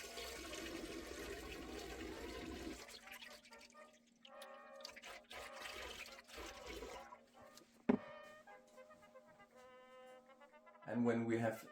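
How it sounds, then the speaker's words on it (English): Natural fresh spring water is poured into a glass wine balloon of honey mead, a continuous gurgling stream that stops and restarts, with a sharp knock partway through and a louder burst of pouring at the end. "And after the honey, we'll just top it off with natural fresh spring water."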